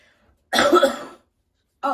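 A harsh, close cough, then a second cough starting after a short pause, with silence around them.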